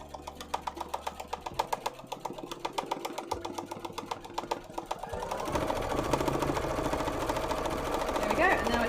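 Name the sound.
sewing machine filling in cosplay fabric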